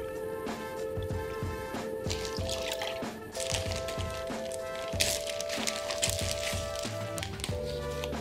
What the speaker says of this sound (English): add equal volumes of heavy whipping cream and milk